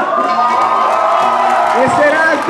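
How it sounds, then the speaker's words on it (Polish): Crowd at a Polish student half-way-to-graduation party cheers and applauds loudly for Paulina, with whoops and shouts over a dense, continuous wash of noise. "Jeszcze raz wielkie brawa za Paulinę"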